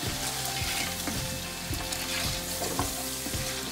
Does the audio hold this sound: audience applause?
no